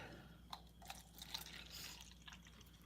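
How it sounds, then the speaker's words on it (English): Soda is poured into a cup in a quiet room, a faint thin trickle with scattered drips and fizzy pops over about three seconds, with no talk. "Pour a little bit of soda."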